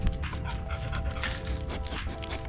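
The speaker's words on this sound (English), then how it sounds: "There's my dog." A dog pants rapidly and steadily close by during a car wash of a Nissan 350Z, its quick breaths running continuously and alone, with no talking.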